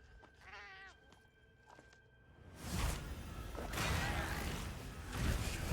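A cat companion in Monster Hunter Wilds gives a few short wavering meows. Loud whooshing swings and heavy impact bursts of combat follow.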